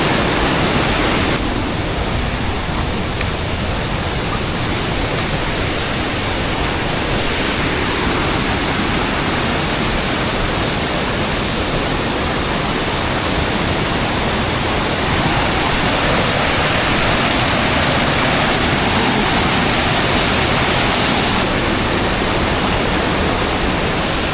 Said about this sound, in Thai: น้ำไหลเชี่ยวแรงมากนะครับ